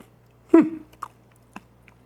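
A crisp crunch of chewing dried red dragon fruit chips, then a few softer, scattered bites and crunches close up, with quiet gaps between them.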